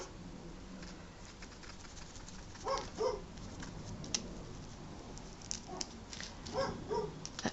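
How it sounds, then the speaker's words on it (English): A neighbour's chocolate Labrador barks next door, several short barks clustered in two bursts, moderately distant and fairly faint over a low background hum. "That barking would be my next door neighbor's chocolate lab."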